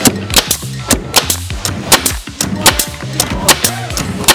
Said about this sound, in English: Place the staples in the tool. Plug in. Safety specs on and fire.